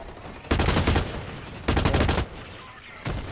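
Automatic gunfire in the shooter Blacklight: Retribution rattles in three loud, close bursts of rapid shots, separated by short quieter gaps.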